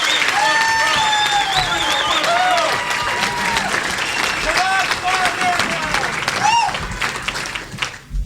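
Large crowd at a Howard Dean presidential campaign rally cheering and applauding continuously, loud and dense throughout, with whistles and shouted voices rising over the clapping.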